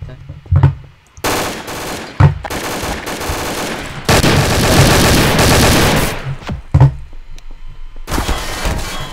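Bursts of gunfire in Garry's Mod DarkRP, loud close automatic fire in several long stretches broken by sharp single thuds and short quiet gaps, with a little talk between volleys.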